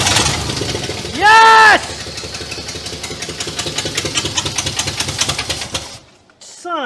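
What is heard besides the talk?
engine of abandoned 1967 Cadillac DeVille starting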